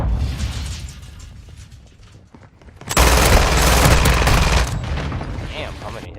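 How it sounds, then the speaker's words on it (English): Modern Warfare multiplayer battle sounds: muffled distant gunfire and blasts, then a sudden loud mortar strike explosion followed by a sustained roar of heavy gunfire and detonations, all close and intense. "Hostile mortar strike in the area."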